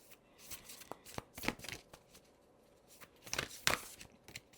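A deck of reading cards being shuffled in short riffling bursts, close and moderately loud, with brief pauses between bursts and no talk.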